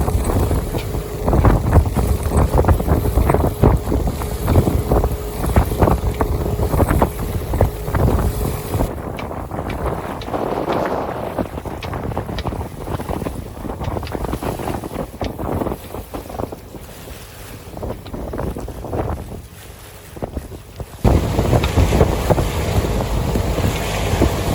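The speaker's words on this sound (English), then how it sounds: "The waves were crashing, but that did mean that the wind was good enough to get our sail straight up." Strong wind roars across the microphone aboard a sailboat while waves crash and surge around the hull, a loud, continuous, blustery wash that eases midway before gusting hard again.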